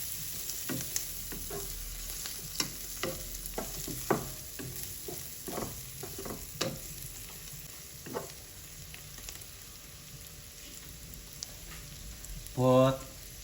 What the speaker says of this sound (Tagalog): Put garlic. Saute in moderate temperature.